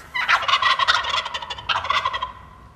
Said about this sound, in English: And gobbling from the gobblers and the jakes.